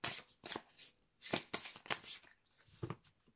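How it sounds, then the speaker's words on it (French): Cards from an oracle deck being drawn and shuffled by hand: several quick papery riffles and slides in short bursts, close and fairly quiet, with no talking. "je vais prendre une carte dans le Teen Angel"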